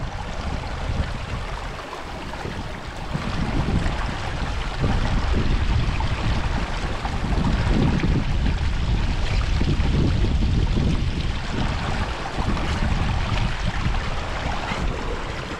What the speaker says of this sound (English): The wind has picked up a little bit.